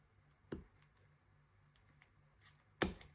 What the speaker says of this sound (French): Un petit coup de ciseau.